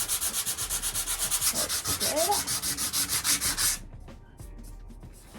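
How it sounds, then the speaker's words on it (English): Rhythmic back-and-forth strokes of 120-grit sandpaper on an old wooden desk, loud and close for nearly four seconds before stopping abruptly, with a single brief word spoken afterward. "I'm gonna go ahead and sand it. This is just some 120 grit sandpaper"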